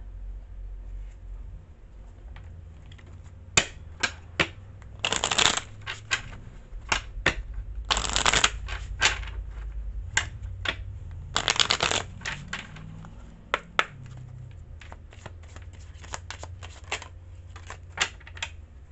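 Tarot cards shuffled close by, bursts of riffling and snapping card flicks with small taps and pauses between, some longer riffles, no talk.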